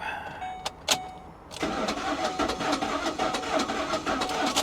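A 2002 BMW 325Ci cranks with two short bursts, then catches and runs with a rough, rapid ticking chatter over a mid-pitched idle, steady and fairly close.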